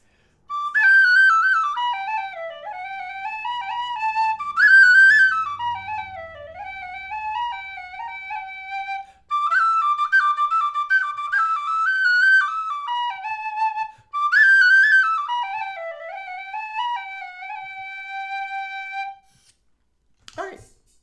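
A Thornton Hybrid wood-body high D tin whistle plays the tune Blackthorn Stick, clear and fairly loud, in long ornamented phrases with brief pauses between them. No one speaks over it.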